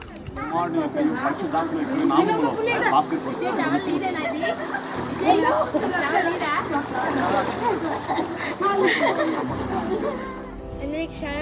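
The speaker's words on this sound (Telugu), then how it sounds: "ఇప్పుడు 7 మార్లు మునుగుతున్నా నేను. మన యోర్దాను నదిలో ఉన్నాం." Water sloshing and splashing as a person repeatedly dips under the Jordan River, the splashes steady through the clip and mixed with talking voices nearby.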